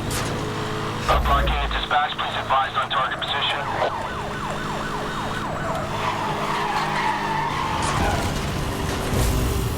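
In the Need for Speed: Hot Pursuit (2010) racing game, a car engine roars at speed while tires skid loudly and a siren wails, all loud and close and lasting throughout.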